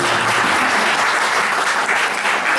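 An audience at a sing-along concert applauds after a song, a dense, even wash of clapping that holds at full strength throughout, with no voices on top.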